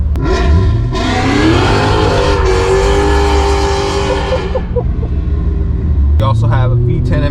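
Dinan Stage 2 exhaust on a 340,000-mile BMW E39 M5 V10: a loud, close engine rumble that swells and then breaks into brief popping burbles as it fades, with a second surge near the end.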